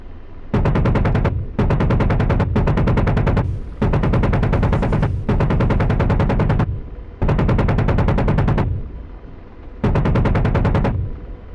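An AH-64D Apache's cannon fires in a flight simulator game in repeated rapid bursts, each about a second or so long, loud and close with brief gaps between, no talking over them.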